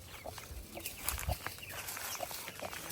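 Chickens cluck softly in a flower garden by a tree, scattered faint calls over outdoor background noise.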